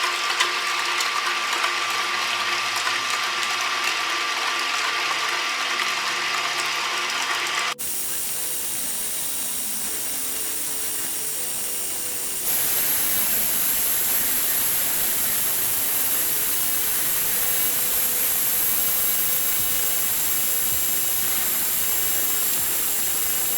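Electric mixer beating cream on high for homemade cookies-and-cream ice cream, a steady loud whirring motor hum that shifts pitch and tone partway through as the mixture thickens, running alone without talk.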